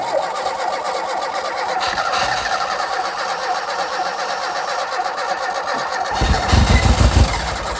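An 1980s hot hatch barn-find engine cranks steadily, then catches near the end, firing into a louder, rough low rumble, all close by with no talk.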